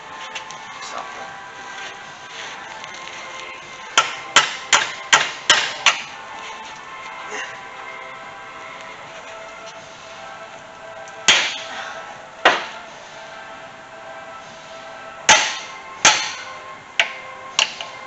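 Metal hammer blows on a stuck bar of a Bobcat 873 skid steer loader: bursts of sharp, loud strikes in quick runs of four to six, then scattered single hits, over steady background noise.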